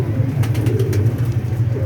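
Pigeons coo in a low, continuous, throaty murmur kept close to the birds, with faint background noise and no voices.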